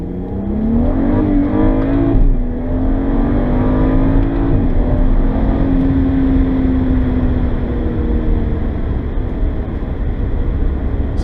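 A BMW 135i tuned with a Cobb Accessport revs hard and accelerates close by, its engine note climbing and then holding a steady, loud drone with constant road and exhaust roar.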